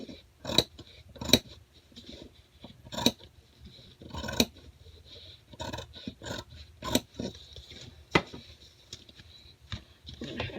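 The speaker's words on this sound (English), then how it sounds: "I won't struggle to cut the fabric, at least." Scissors cutting through fabric, a series of sharp, crisp snips at irregular intervals, close and fairly loud, with quieter handling noise between cuts and no talking.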